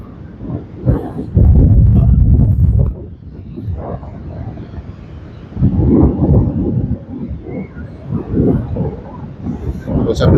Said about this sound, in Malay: Memang kuat angin.